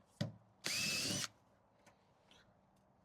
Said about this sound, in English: So let's unscrew all these, take this off